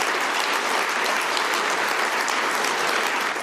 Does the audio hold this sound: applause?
yes